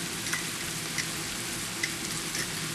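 Chili with tomatoes and beans cooks down in a pan with a soft, steady sizzle and a few light stirring clicks, fairly quiet and with no talking.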